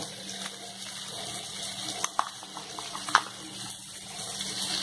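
Water poured into a jar of poppy seed paste while onion and tomato cook nearby, a soft continuous trickle with a few small splashes and clinks over a low background hum.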